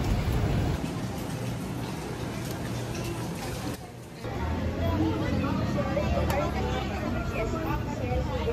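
Rain falls on a busy street in Binondo Chinatown, Manila, a steady hiss of water under the close chatter of people crowded beneath a shelter, with a brief lull midway.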